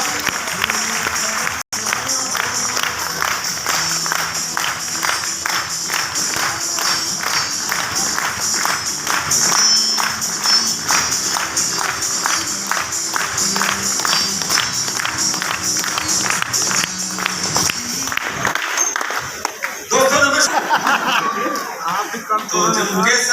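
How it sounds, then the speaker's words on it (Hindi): An audience at a business motivational event breaks into loud, sustained applause as a senior upline is called up, dense clapping running for over twenty seconds with crowd noise and some voices mixed in, thinning out near the end. "एक बार जोरदार तालियां।"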